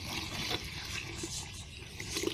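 Water pours into a bucket of decomposed cow-manure compost, a steady splashing rush close by with no break.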